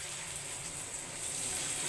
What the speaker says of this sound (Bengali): আমি একটু পরিমাণ দেখে জল দিয়ে দিচ্ছি